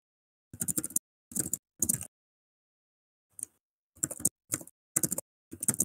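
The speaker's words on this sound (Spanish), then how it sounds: "Por ahí escucho un teclado." Typing on a mechanical keyboard heard in short bursts of rapid, clacky keystrokes separated by brief silences, close and distinct with no speech over them.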